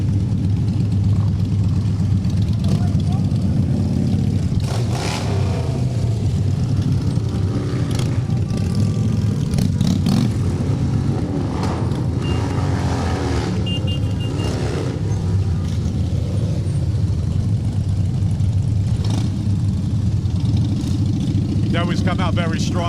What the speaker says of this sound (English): Bikes are loud and the boys like showing off the chrome.